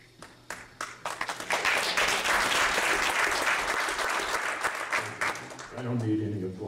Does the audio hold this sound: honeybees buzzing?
no